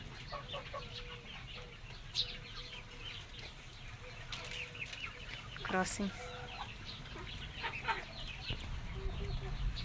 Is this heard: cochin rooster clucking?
yes